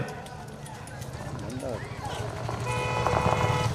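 A bull charges along the course in a single-bull racing event at Madhavaram, Chennai, its hoofbeats clattering under loud crowd noise and people shouting nearby.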